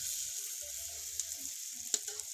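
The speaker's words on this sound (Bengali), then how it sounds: "এই যে লুচিগুলো ভাজা চলছে এখন" Luchi, puffed flatbread, frying in hot oil: a steady, quiet hiss of bubbling oil with a couple of soft pops and faint low clinks, no voices.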